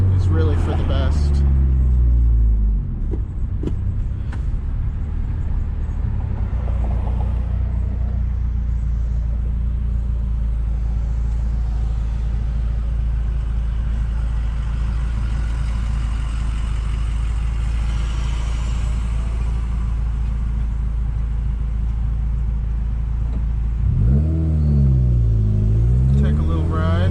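A 2015 Subaru WRX with the FA20DIT engine and a burble tune drives along with a loud, steady low engine rumble and cabin drone, and a voice talks over much of it.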